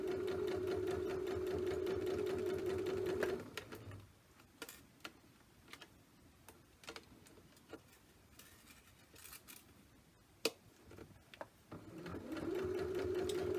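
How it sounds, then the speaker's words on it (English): A sewing machine stitches cording onto a cross stitch stocking top in two steady, close whirring runs at the start and end, separated by a quieter stretch of scattered clicks and taps. "You just follow that line and sew it onto your stocking top."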